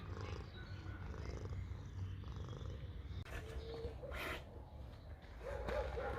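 A tiger purrs in a deep, steady, rumbling drone close to the listener, continuous through the whole stretch with a few soft snorts and rustles near the end.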